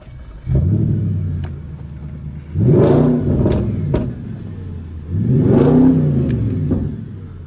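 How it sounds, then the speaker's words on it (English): Audi S5 4.2 V8 Tiptronic quattro with sports exhaust starts and revs in three loud, close blips, each rising and falling back to a deep idle between. "Just start the car up."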